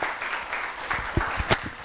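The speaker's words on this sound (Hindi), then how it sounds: "तो उसामा भाई के लिए बहुत सारी तालियाँ, बहुत सारी तालियाँ।" Studio audience applause on a talk show set, a short burst of clapping with a few louder individual claps standing out, moderately close, no speech over it.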